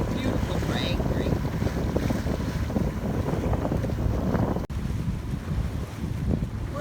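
Wind roars steadily over an Island Packet 320 sailboat underway at sea, with loud buffeting microphone gusts and water rushing along the hull, continuous and close throughout.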